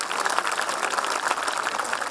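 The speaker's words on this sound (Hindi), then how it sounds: "एक बार तालियां बजाओ" An audience at a Holi festival gathering applauds, a dense, steady wash of many hands clapping at moderate distance, without speech.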